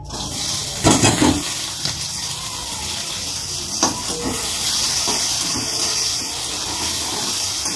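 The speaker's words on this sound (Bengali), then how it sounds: "এই যে পেঁয়াজ ক্যাপসিকাম কেটেছি এটা একটু দিয়ে দেবো তেলের মধ্যে" Chopped onion and capsicum dropped into hot oil in a wok, a steady frying hiss with a brief louder burst near the start, close and continuous with no talk.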